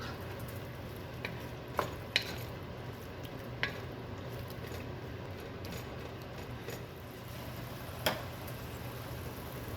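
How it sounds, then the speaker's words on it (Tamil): Potato and cauliflower with garam masala are stirred in a pan, a faint low sizzle under scattered soft scrapes and clicks of the spoon. "கரம் மசாலாவோட ஃப்ளேவர் நல்லா மிக்ஸ் ஆகுற வரைக்கும் ஒரு 2-3 நிமிஷம் நீங்கள் நல்லா மிக்ஸ் பண்ணுங்கள்"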